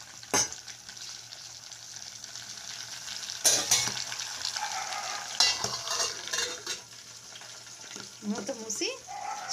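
Betel leaf dipped in buttermilk dropped into hot homemade ghee, giving a steady close sizzle with a few louder crackling bursts and faint clinks throughout.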